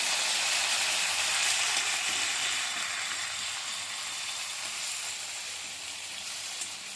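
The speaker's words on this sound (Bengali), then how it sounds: "এবার এগুলোকেও ভালো করে মিশিয়ে নিচ্ছি।" Boiled tomatoes stirred into potatoes in a hot pan, heard as steady loud sizzling frying that fades slightly over the seconds, with no voices.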